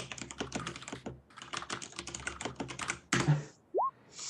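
Rapid keystrokes clatter on a nearby computer keyboard in two dense bursts separated by a brief pause, followed by a short louder knock and a quick rising electronic chirp.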